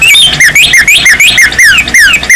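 A red toy bird chirping loudly and electronically, a rapid string of shrill, sliding tweets repeating in a tight, unbroken rhythm right up close.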